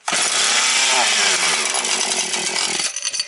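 A Husqvarna 130 chainsaw engine screams loudly at close range, holding a high revving roar for nearly three seconds before sputtering and dying out at the end.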